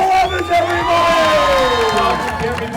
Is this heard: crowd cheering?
yes